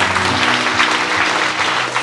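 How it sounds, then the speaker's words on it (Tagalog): A church congregation claps loudly and continuously in a dense, close burst. The applause stays steady and no voices are heard. "isang malakas na palakpak muli bago tayo maupo"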